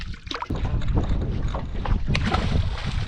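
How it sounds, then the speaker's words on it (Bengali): A boatman rows a wooden boat on the Bidyadhari river in the Sundarbans, with steady water sloshing and paddle strokes under wind buffeting the microphone, close and continuous. "এই যে আমাদের মাঝি নৌকা চালাচ্ছে"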